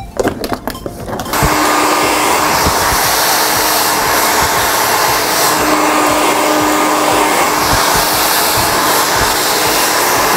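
A hair dryer switches on and runs with a loud, steady whooshing roar that continues without a break.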